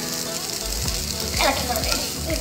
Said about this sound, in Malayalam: നമുക്കിതിലേക്ക് വേവിച്ചിരിക്കുന്ന പൊട്ടറ്റോ ഇട്ട് കൊടുക്കാം. പനീർ ഇത്തിരി ഇട്ട് കൊടുക്കാം.